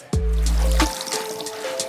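Hot water gushes from a tap into a pot with a loud splashing burst that settles into a steady trickle, then fades as the flow slows.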